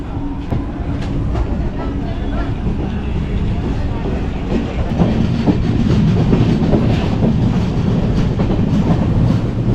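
A train rolls into Sangameshwar railway station in Konkan with a steady low rumble and rhythmic clickety-clack of wheels over rail joints, close and continuous throughout.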